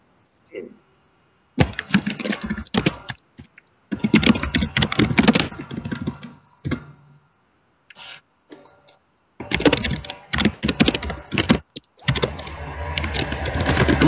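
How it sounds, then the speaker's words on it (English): A computer keyboard clatters close by in several rapid bursts of typing, separated by short pauses, during a PC game session. "Remind me, I was typing."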